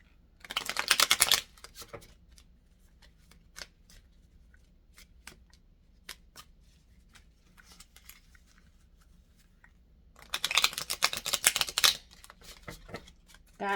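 Plastic playing cards are shuffled in two rapid riffling bursts, one at the start and one near the end, with scattered soft clicks and taps of the cards in between and no talking.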